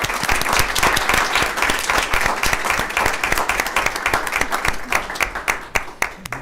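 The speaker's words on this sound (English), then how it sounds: "Please join me in a round of applause of congratulations." Applause at a school board meeting congratulating a newly elected board member: a room full of people clapping loudly and densely, then thinning to scattered claps near the end.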